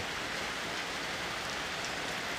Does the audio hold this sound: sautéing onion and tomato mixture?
no